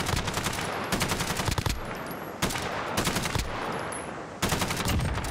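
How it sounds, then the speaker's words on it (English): Rapid automatic gunfire in Call of Duty Warzone, with dense bursts of shots in quick succession, brief pauses between volleys, and continuous loud game noise throughout. "Got a guy shooting at me from..."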